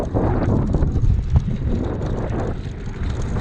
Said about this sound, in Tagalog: Parang mahangin kasi ngayon